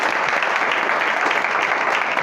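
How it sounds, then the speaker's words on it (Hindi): Audience applause at an outdoor or hall gathering on organic farming, a steady dense clapping that holds at an even level from start to finish with no voices on top. "इसके लिए जोरदार तालियां होनी चाहिए।"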